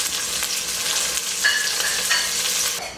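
Chicken pieces for chicken Alfredo fry in a pan with a bright, steady sizzle and crackle, a few brief squeaks and scrapes from the pieces shifting, fading slightly at the end, no voices.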